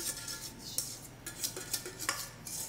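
A spoon stirs eggs into lemon pie filling in a pot, scraping and clinking against the metal in an irregular rhythm, close and fairly quiet.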